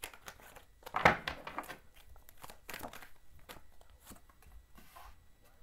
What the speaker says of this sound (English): I'm putting it back in because I'm still shuffling.